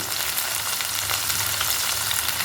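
Freshly washed shallots dropped into hot oil, a loud, steady, close crackling sizzle that fills the whole moment with no voices.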